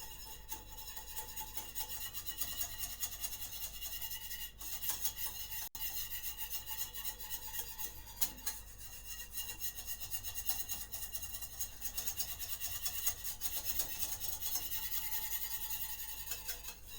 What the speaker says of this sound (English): You can see, you whisk it, keep it always moving